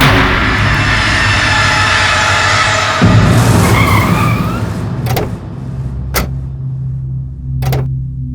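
In a tense TV drama scene, a car speeds away with a loud engine roar and tire skid that lasts about five seconds and then fades, followed by a few sharp dramatic hits.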